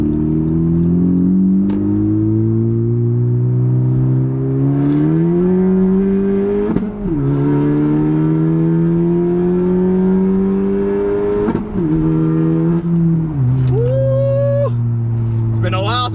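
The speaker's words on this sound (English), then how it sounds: "These backfires are going nice." A car's engine revs and climbs through the gears, loud and close, with sharp exhaust backfire pops breaking in at intervals, as someone talks over it.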